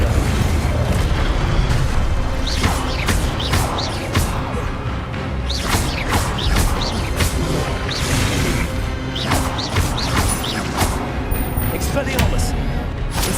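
Loud, dense game combat in Hogwarts Legacy as the Incendio fire spell is cast, with repeated crashing, booming bursts and sharp impacts over a constant rumbling bed, and a voice speaking now and then.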